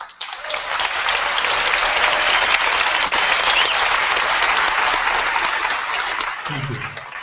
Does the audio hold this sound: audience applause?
yes